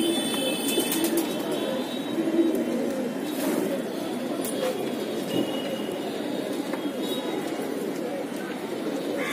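Kasuri pigeons coo in a loft in Mumbai, soft repeated throaty calls close by over a constant background rumble, with a few sharper clicks and knocks scattered through.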